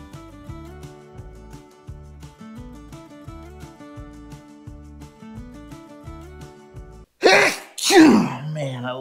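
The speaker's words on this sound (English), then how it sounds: "Love a good sneeze" After soft rhythmic piano-like music, a person lets out a loud sneeze, followed quickly by a second forceful burst up close.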